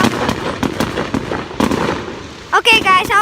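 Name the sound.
fireworks exploding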